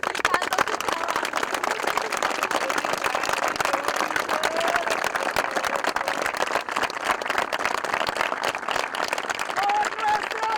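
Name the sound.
crowd applause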